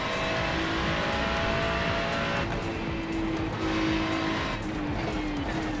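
Race cars roar around Suzuka in a racing video game, a dense, steady engine drone with shifting pitch as cars pass close, and no pauses.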